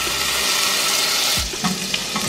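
Chopped kimchi hits butter in a hot pan, giving a continuous hiss and sizzle with a few stirring scrapes near the end, close and steady with no talk.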